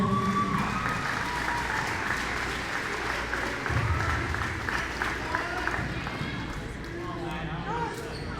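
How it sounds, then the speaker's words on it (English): Applause from the crowd at a high school boys basketball game between Springs Valley and West Washington, a steady clapping roar that fills the whole stretch, with a voice talking over it throughout. "Give yourself a round of applause."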